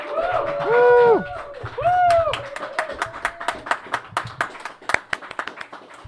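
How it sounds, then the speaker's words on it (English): An audience claps at a fighting-game tournament winner announcement, brisk scattered clapping that builds after cheering voices and shouts in the first seconds and carries on moderately loud. "may I have a round of applause"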